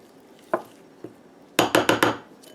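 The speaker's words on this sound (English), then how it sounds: "And just by adding a bit of water, you're gonna make your paste." Spoon stirring roasted ground cumin, garam masala and curry powder with water into a paste in a metal bowl, two isolated light clinks followed by a quick run of four sharp scraping knocks.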